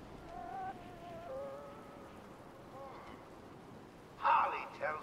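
Steady rain falls on a stormy night in the video game Batman Arkham Asylum, a soft continuous hiss under a voice, with a couple of brief louder bursts near the end.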